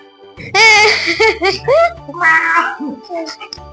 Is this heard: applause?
no